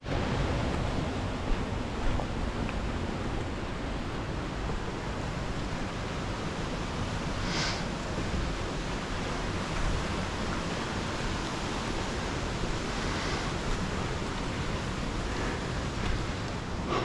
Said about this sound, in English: This is a small stream, but it's still really neat.